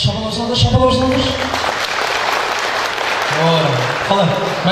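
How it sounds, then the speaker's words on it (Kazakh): Audience clapping at a Kazakh wedding celebration, dense steady applause throughout, mixed with voices and music from the festive gathering. "Шапалақ салыңдар."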